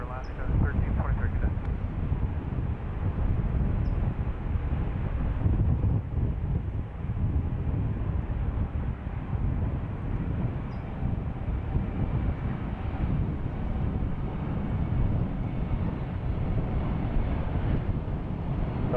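An Alaska airliner departing San Francisco International Airport produces a steady, loud, low jet engine roar that lasts throughout. Strong wind noise on the microphone sits over it, and the roar stays at a constant level.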